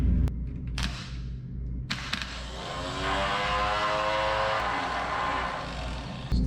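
Engine of a 1978 Ford F250 crew cab, stuck and long abandoned, cranks hard and tries to start, a steady grinding churn with a rising tonal whine over several seconds, loud and close throughout.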